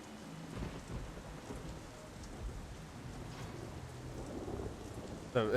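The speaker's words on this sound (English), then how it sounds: "I can climb in the rain." Steady rain pours down with low rolls of thunder rumbling underneath in the video game The Saboteur, a constant wash of storm noise with no voices.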